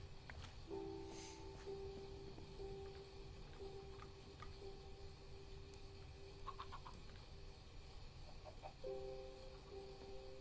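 Chickens cluck in a modded Minecraft world, several short, faint clucks and calls spread over a quiet, steady background with sustained low tones, no voices.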